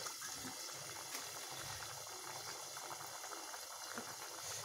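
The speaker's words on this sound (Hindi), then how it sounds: "हमारा मैक्रोनी है जो उबलने लगा है" Macaroni boiling in a pot of water on an Indian home stove, a steady, fairly quiet bubbling wash with no talk over it.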